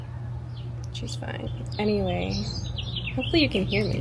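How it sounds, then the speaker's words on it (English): Birds chirping outdoors at the Coachella festival, with faint, scattered high chirps running beneath a person talking close by. "Can you hear the birds chirping?"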